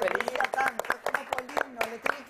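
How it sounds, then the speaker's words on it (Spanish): A few people clap in a Spanish-language TV studio. The claps are short, irregular and moderately close, mixed with overlapping talk and laughter. "Bueno, te aplaudo."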